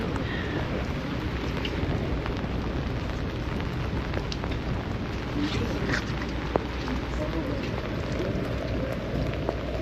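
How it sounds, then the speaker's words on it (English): Rain falling steadily on the open upper deck of a glacier tour boat in Kenai Fjords, Alaska, a continuous hissing patter with scattered droplet ticks and some wind, running evenly throughout. "The rain is making it more interesting."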